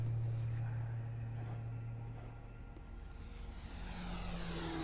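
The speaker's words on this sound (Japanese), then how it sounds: "私の隣にドローン飛んでった。" A drone whirs past in the horror game Tsugunohi, a steady engine-like drone that swells and fades as it moves by, with no talk.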